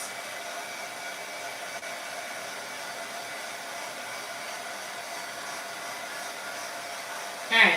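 A hair dryer runs with a steady, even whir close by while drying freshly painted wooden shiplap bunny craft pieces, continuous for several seconds before a brief bump at the end.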